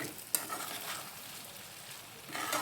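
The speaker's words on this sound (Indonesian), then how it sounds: "Kita aduk supaya telurnya tercampur." Eggs being stirred in a nonstick frying pan, a soft steady sizzle with scraping and stirring textures throughout, one brief sharp clink near the start, fairly quiet and without talk.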